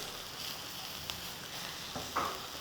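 Mixed vegetables and manioc with chili powder stir frying in a pan, a steady close sizzle with occasional scrapes and stirring clicks.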